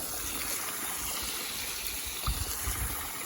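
Water runs steadily into a container in a garden polytunnel, a constant close rushing trickle with a couple of gurgling bumps, no speech.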